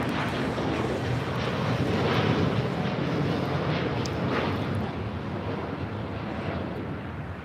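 A LATAM Airlines Boeing 787-9 Dreamliner takes off from LAX bound for Santiago, a steady broadband jet roar with wind buffeting that swells slightly midway and holds loud throughout.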